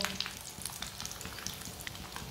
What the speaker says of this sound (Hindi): सबको इसी तरह ब्राउन करना है सेवियों को।